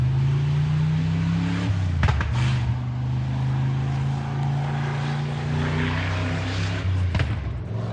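A Ford Windsor engine fitted in a Freedom Fox runs at a steady idle on its first start, a loud, close, continuous droning rumble with a couple of brief knocks.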